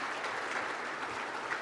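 A civic event audience at the Renaissance in Portsmouth, Virginia, applauds civic leaders at a State of the City gathering, producing a steady, moderately quiet wash of clapping with no voices over it.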